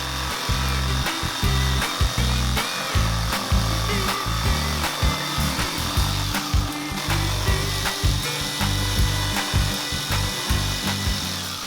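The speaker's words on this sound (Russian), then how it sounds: "возьмем электролобзик с полотном с мелким зубом и выпилим по периметру эту вставку" An electric jigsaw with a fine-tooth blade cuts around a hard plastic insert in a football boot sole, a close, loud, rapidly chattering rasp that pulses in short bursts with brief pauses throughout.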